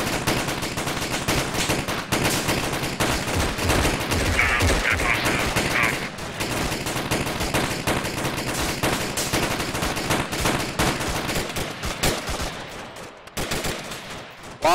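Sustained automatic gunfire and rifle shots from an Arma 3 firefight, loud and near, continuing almost without pause for the whole stretch with dense overlapping bursts.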